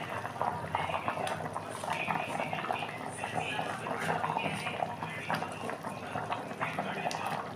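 Paneer curry bubbles steadily in a pan, a continuous thick boiling burble with soft pops, moderately quiet and without pause.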